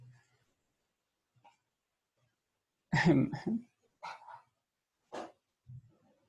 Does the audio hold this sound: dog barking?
yes